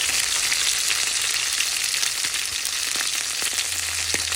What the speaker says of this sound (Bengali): আমার ইলিশ মাছটা ভাজা হয়ে গেল